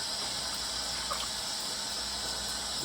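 Tomatoes washed under running water, a steady, loud gush of tap water that stays even throughout, with no talking.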